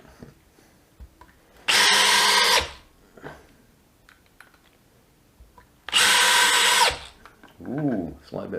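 A DeWALT 12V brushless DCD701 drill whirs loudly in two bursts of about a second each, separated by quiet handling noises and a short voice sound at the end.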